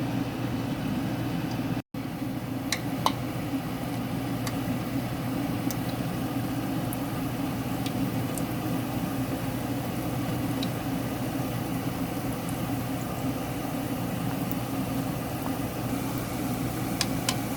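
Gulab jamun balls frying in hot oil in a kadai over medium heat, a steady, continuous sizzling hiss with faint bubbling that runs evenly throughout and is marked by one brief dropout near the start.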